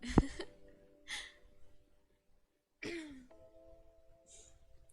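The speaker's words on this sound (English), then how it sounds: "Cough and sniffle." A few throaty coughs and throat-clearing bursts, spaced out with quiet gaps and soft breathing between them, close by.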